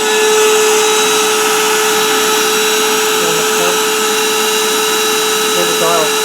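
Built-in electric pump of a Bestway twin 12-inch air mattress drones steadily at close range, a continuous motor hum with a strong fixed pitch running throughout, with faint voice sounds near the end.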